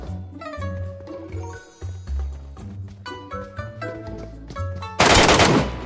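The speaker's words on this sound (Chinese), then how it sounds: "你听，黑市有枪声，快点过去" In the shooter game Arena Breakout, a harsh, loud burst of gunfire erupts near the end after a stretch of tonal game sound.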